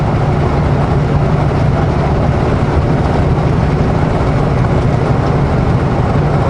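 A 500 horsepower truck engine droning steadily, a loud, constant low rumble from close by, with no talking.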